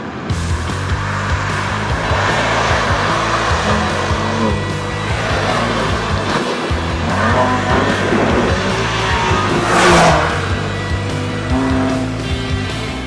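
A BMW M2 Competition's six-cylinder engine, rated at 411 hp, runs loud and close as the car pulls away, with a broad continuous drone and a brief rising surge near the end, no voices.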